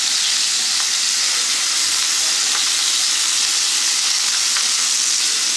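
Crushed unpeeled garlic dropped into hot oil in a pan while cooking juicy pork, giving a steady loud bright sizzle and crackle with faint pops throughout.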